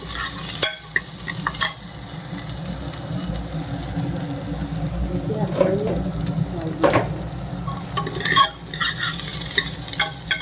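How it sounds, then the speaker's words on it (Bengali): Dal frying in a pressure cooker for a fish-head muri ghonto, with a steady close sizzle and scraping stirs rising in bursts, plus a low rumbling hum underneath throughout. "ভেজে নিচ্ছি ডালটা কুকারের মধ্যে।"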